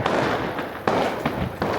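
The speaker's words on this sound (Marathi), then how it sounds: "स्वागतासाठी फटाके फुटताय." Firecrackers set off for a welcome crackle and pop in a dense, close burst, with several sharper bangs punctuating a continuous crackling hiss.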